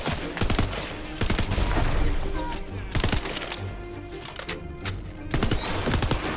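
Gunfire in the shooter game Tiny Tina's Wonderlands: loud, close bursts of rapid shots in several clusters, with sharp cracks and brief pauses between volleys.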